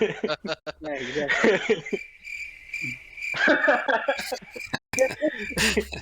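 Cricket chirping, imitated by a person's voice as a steady high trill that runs through the middle of the clip, with speech and laughter before and after it.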